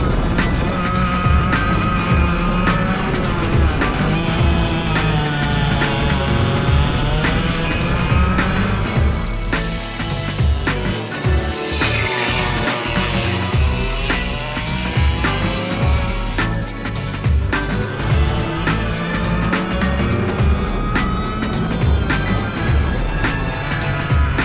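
A racing kart screams at full throttle, engine note climbing steadily, then drops off as the driver gets hard on the brakes; the loud, continuous engine sound fills the whole stretch with no talk over it.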